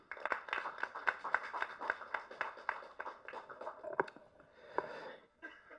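Audience applause welcoming actor M.S. Bhaskar at a press meet, a fairly faint patter of scattered handclaps that thins out toward the end.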